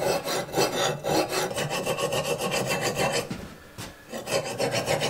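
Worn, cheap hardware-store files rasp against the hardened steel edge of an axe in quick rhythmic strokes, close and dry, with a short pause before the filing resumes.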